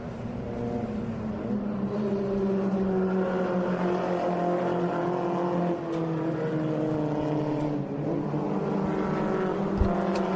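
Race cars at the Mission Foods Atlanta SpeedTour roar into turn 6 in a steady pack, engine notes rising and falling as they pass at a distance, with no talk.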